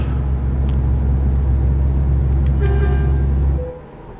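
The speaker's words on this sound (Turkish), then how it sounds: "Vay motor arızası verdi araba ya." Truck engine with a fault in the Euro Truck Simulator 2 video game: a loud, steady low rumble with a faint tonal whine on top, cutting out abruptly near the end.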